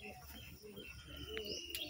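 Pigeons drinking water before being put back into their loft coo and call softly, a few brief chirps standing out over steady low background noise.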